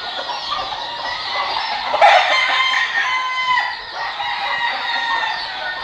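Chickens on a poultry farm cluck steadily over a dense flock chatter, and a rooster crows clearly near the middle, loud and close.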